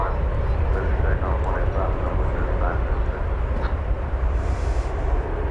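Continuous jet roar from a Korean Air airliner departing DFW airport, steady and fairly loud throughout, with speech running over it and a dog briefly yapping.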